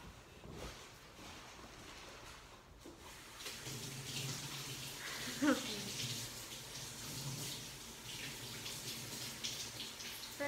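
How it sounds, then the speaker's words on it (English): Running tap water pours steadily over hands being washed at a kitchen sink after kneading yeast roll dough, a continuous hiss and splash with brief knocks, voices talking faintly in the background. "Right now, Nana's washing her hands"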